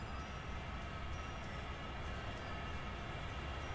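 A steam train in Train Sim World 6 rumbles along with a continuous heavy rolling roar and faint regular high clicks, steady and close, no speech.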